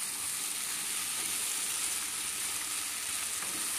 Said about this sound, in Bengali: কাজুটা দিয়েও মিশিয়ে নেব।